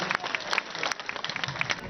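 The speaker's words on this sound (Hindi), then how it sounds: "एक बार जोरदार तालियां" Audience applause at a yoga center inauguration ceremony in Birgunj, Nepal: a dense, steady patter of many hands clapping for about two seconds, fairly loud and close, with no speech over it.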